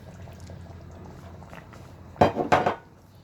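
Hot water poured into pasta in a pot for spaghetti jollof makes two short splashing gushes near the end after a quiet kitchen lull with faint clinks.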